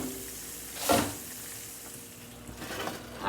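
Shrimp frying in a pan give a steady, low sizzle, broken by one louder burst of hiss and a later smaller one, close and moderate with no talking.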